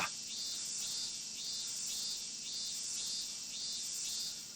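Cicadas drone through a Japanese summer in the video game Disaster Report, a shrill, pulsing whine that swells and eases in regular waves, steady and alone against a faint background.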